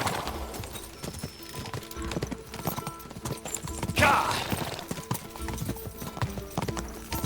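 Horse hooves gallop in Kingdom Come Deliverance 2, a steady rapid clip-clop near and clear throughout, with a brief louder burst midway and a voice talking over it.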